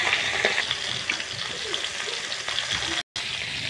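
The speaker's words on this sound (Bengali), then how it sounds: "তেল কিন্তু গরম হয়ে গেছে। এবার মাছটা দিচ্ছে ছেড়ে ছেড়ে আস্তে আস্তে" Khoira fish pieces sizzle and crackle in hot oil, a steady close frying hiss with a brief dropout near the end; no speech over it.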